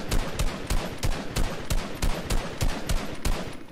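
Gunfire in Fortnite aimed at a falling supply drop: about ten evenly spaced, sharp shots in a steady rhythm, loud and close, with no talking.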